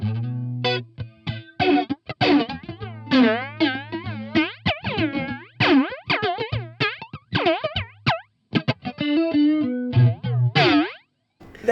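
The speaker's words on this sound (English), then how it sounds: "There's also a crazy sounding dynamic flanger one that we were playing with." Guitar notes warped by a Keeley dynamic flanger pedal, each plucked phrase bending and sweeping in pitch with a jet-like whoosh, loud and up close.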